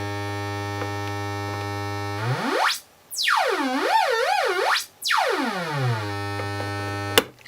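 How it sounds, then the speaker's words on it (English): DIY synth oscillator built on a 40106 chip, a steady buzzy tone that sweeps sharply up and down in pitch with a wobbling vibrato in the middle, then settles low again and ends with a click. "So one oscillator on its own should sound something like this."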